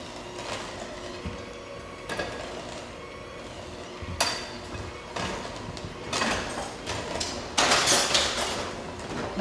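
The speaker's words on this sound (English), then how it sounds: "Evie's going to keep on mixing until it gets all incorporated" Oat cookie dough is stirred in a bowl with a utensil, giving uneven scraping and clinking strokes. The knocks come at an irregular rhythm, up close, with a brighter rattle toward the end.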